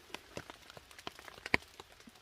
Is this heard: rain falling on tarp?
yes